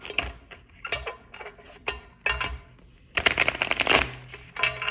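Tarot cards being shuffled by hand, a series of crisp riffling bursts and soft slaps in irregular rhythm, close and fairly quiet, with a longer, denser riffle near the end and no talking.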